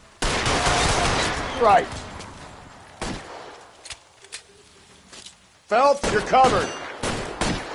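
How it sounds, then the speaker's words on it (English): Bursts of suppression gunfire in the L.A. Noire video game, a dense rattling volley at the start and more shots later, with a voice talking over parts of it. "I'll lay down some suppression fire."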